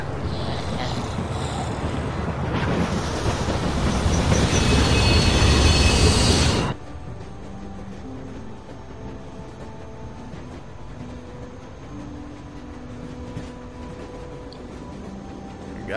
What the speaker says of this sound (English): Hey, Walker, look! Train!